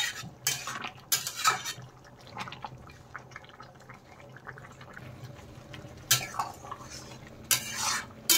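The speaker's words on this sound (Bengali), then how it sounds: "ডিম দিয়ে দেওয়ার পরে এখন একটু ঝোলের সাথে মিশিয়ে দিলাম।" Fried eggs are stirred into a reduced curry gravy with ridge gourd in a pan. A spoon scrapes and clinks against the metal in scattered bursts over a quiet simmer, with no talking.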